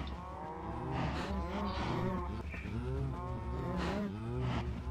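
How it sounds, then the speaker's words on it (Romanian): Many cows in the Minecraft video game moo in overlapping, repeated calls, loud and continuous with a dense layered herd sound. "Multe vaci."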